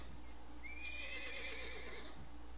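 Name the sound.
horse neighing in the video game Wildlife Park 2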